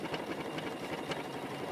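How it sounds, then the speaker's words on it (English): An embroidery machine stitching a flower applique at 800 stitches per minute, producing a fast, even mechanical chatter with rapid regular pulses, close and steady throughout the brief moment. "I am hitting start. I am on a speed of 800 stitches per minute."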